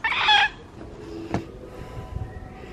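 Chickens in a coop, with a loud burst of clucking and squawking up front followed by quieter scattered clucks and rustling, heard close by with no speech.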